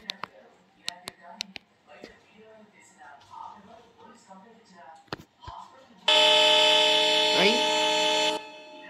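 A diesel locomotive horn on a local train line blares as one loud, steady, sustained tone for about two seconds, following scattered clanks and a stretch of spoken talk.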